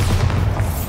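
A Bombarda explosion spell going off in the Hogwarts Legacy video game: a short, deep, booming blast that fills the whole moment loudly, with no voices over it.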